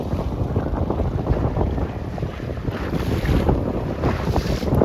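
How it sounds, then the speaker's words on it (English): Strong wind roars and buffets the microphone continuously during a C420 dinghy regatta with 12- to 14-year-old sailors, loud and gusty over a wash of water, with no talking. "This is quite a lot of wind for our 12 to 14-year-olds"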